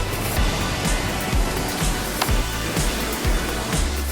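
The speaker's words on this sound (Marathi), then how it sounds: "पाऊस चालू आहे" Steady rain falls outdoors on an open hilltop, a close, continuous hiss punctuated by regular low thuds, with no voices.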